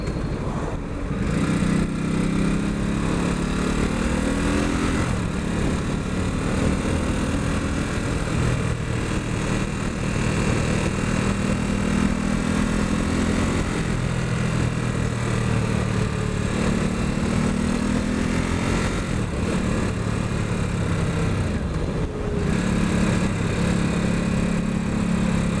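Ducati Supersport S motorcycle engine under way on a winding road, fitted with a new chain, tyres and sprockets, a loud, steady close drone with pitch rising and falling through gear changes, continuous throughout.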